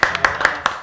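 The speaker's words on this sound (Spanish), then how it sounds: "Fuerte el aplauso." Studio audience on an Argentine television show applauds to welcome a guest, with sharp, loud, rhythmic hand claps sounding over a continuous bed of crowd applause.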